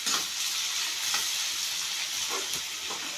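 Tomatoes sauté in oil in a pan for a bitter gourd fry, giving a steady, close, unbroken sizzle with no voices.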